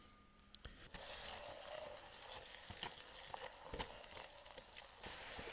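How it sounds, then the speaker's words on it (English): Mushrooms frying in butter in a pan at an outdoor riverside camp kitchen, a steady soft sizzle with scattered crackles and pops running throughout, fairly quiet and close, with no talking. "I'm going to scoop some butter into there ready to fry the mushrooms."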